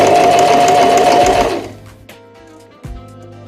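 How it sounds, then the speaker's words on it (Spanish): A Janome 1000A sewing machine stitches a button in a close, loud, fast burst of needle strokes lasting under two seconds. It then falls quiet, and a single mechanical click follows. "Cosemos algunas puntadas y ya tenemos listo el botón."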